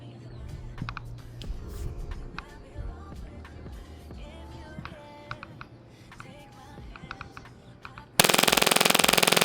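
An AAP-01 airsoft pistol running on HPA fires BBs in a steady stream of sharp, rapid mechanical cracks and clacks, loud and close, ending in a sudden burst of harsh broadband noise.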